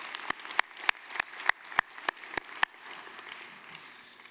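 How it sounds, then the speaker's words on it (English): Graduates clap for themselves at a university fine arts and communication commencement: about nine sharp, evenly spaced claps stand out clearly over a fainter spread of applause, then the clapping thins and fades. The sound is fairly quiet overall. "give you all self a big round of applause"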